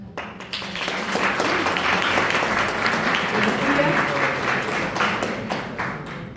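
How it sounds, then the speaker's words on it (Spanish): An audience at a labour law academic conference claps loudly and steadily, a full round of applause with some nearby sharp hand claps and a murmur of voices underneath. "Démosle un fuerte aplauso."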